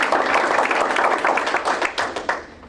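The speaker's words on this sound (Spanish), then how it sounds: "Aplauso al Señor." A congregation at an evening worship service applauds the Lord, a dense burst of clapping that holds steady and then thins into a few louder, separate claps near the end.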